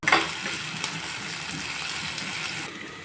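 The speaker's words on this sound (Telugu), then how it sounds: "నేనైతే ఇదిగో చిక్కుడుకాయలు వేసుకుంటున్నాను. చిక్కుడుకాయలు కూడా బాగా వేపుకోవాలండి." Flat beans fry steadily in a pan with a soft, even sizzle that holds at one level for about three seconds, with light stirring clatter near the start and no talk.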